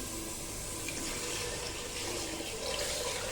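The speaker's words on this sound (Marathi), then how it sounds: "याच्यामध्ये पाणी घालूया अंदाजाने" Water pours steadily into a cooking pot of mung dal for khichdi, with a continuous splashing rush, close by and unbroken.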